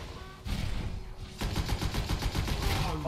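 Light machine gun fire in the Destiny video game, a sustained burst of rapid rattling shots that surges again after a short gap, loud and close, over faint game noise.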